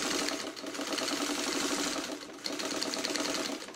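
Sewing machine stitching through a thick fabric coaster, running steadily with a fast rapid clatter that bucks and strains slightly, close and loud with no voices.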